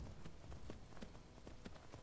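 Horse hooves clip-clop in Skyrim VR, quiet, evenly spaced knocks from a black horse walking, with no voices.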